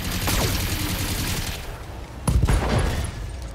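Weapons fire from a mech in BattleTech, a precision strike at an enemy leg: an opening rumbling volley, then a second sharp, loud burst of impacts near the end, close and heavy.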